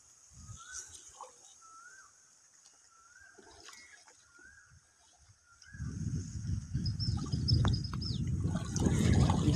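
Water and fish, large bhetki caught from a field pond, being poured out: after a quieter stretch with chirping birds, a sudden rushing gush and splashing of water swells up and continues loudly to the end.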